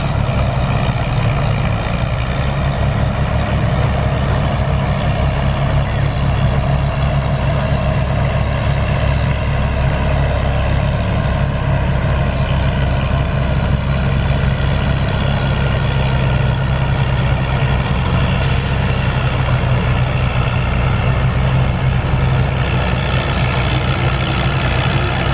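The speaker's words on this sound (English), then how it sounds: "Travis Glover from Friendsville, Maryland, driving Lois Palmer's WD-45." A loud, steady engine drone from an antique WD-45 tractor at an outdoor tractor pull, holding a constant low rumble for the full length with no speech heard.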